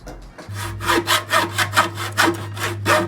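Hand saw cutting a wooden board for a workbench build, rhythmic back-and-forth strokes about every half second, close and loud, with no talk over them.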